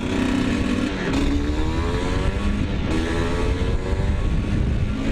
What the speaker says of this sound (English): Really interesting little bike, two-stroke from 2003